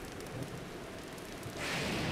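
Heavy thunderstorm rain pours steadily in the game Zelda: Breath of the Wild, a dense close hiss with low thunder rumbling underneath that swells louder near the end.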